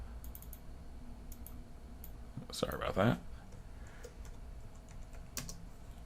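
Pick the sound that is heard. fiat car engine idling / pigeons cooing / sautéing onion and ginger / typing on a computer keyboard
typing on a computer keyboard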